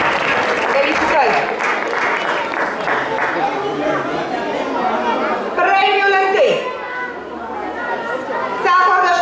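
An audience applauds schoolchildren at the award ceremony of a theatre and mask festival in Vălenii de Munte, Romania: sustained, dense clapping mixed with crowd chatter, with a fresh burst of applause near the end.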